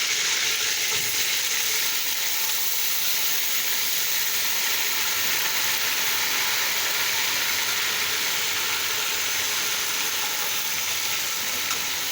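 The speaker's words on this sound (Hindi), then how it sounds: "अब मैं इनको तड़का लगाऊंगी।" Steady, close sizzling of spices frying in hot oil for a tempering over cooked beef trotters, a continuous crackling hiss that holds evenly throughout without pause.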